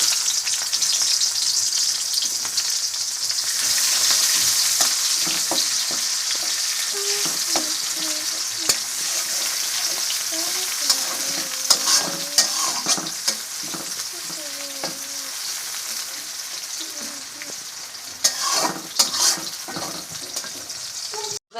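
Onions fry in oil in a pan used for frying fish, a loud, continuous sizzle broken by scraping and clinking stirs, growing busier toward the end.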